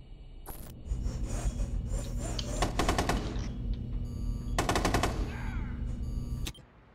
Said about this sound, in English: I'm gonna fucking shoot this again.